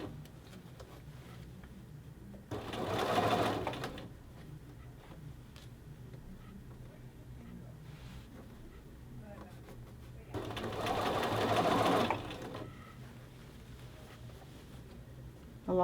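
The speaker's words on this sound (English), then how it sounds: "You just want to sew with a regulation stitch." A sewing machine stitches a men's shirt collar band at regular stitch length, running in two steady bursts of a few seconds each, separated by quieter pauses with room hum.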